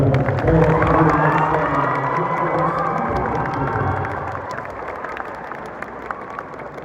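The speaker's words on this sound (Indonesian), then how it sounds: "Hadirin mohon tepuk tangan untuk Prof." An audience at a professor's inauguration ceremony at GSG Unila applauds and cheers, with whoops and shouts over a dense wash of clapping that slowly fades. Voices mix in throughout.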